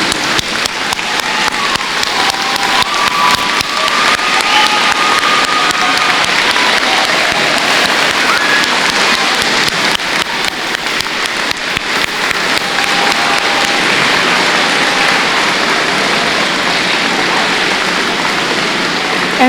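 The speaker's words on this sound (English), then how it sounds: "if you could please stand if you are able, and if we would love to applaud you" An audience at a middle school Veterans Day assembly applauds veterans with loud, sustained clapping that fills the hall without pause, a dense rain-like wash of hands and no talk over it.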